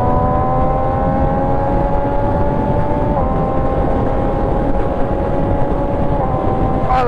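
An MV Agusta Dragster RR motorcycle engine revs in a steady, loud high-pitched drone with rising tones and brief shifts in pitch, close and unbroken, with no voices.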